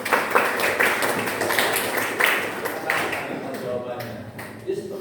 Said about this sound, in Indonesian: Tepuk tangan dulu buat Sami